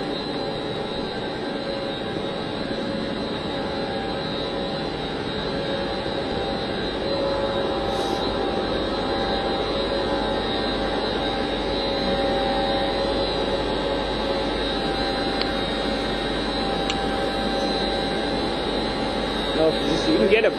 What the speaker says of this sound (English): You're looking at the mix pumps. This is the ATAD's mix pump,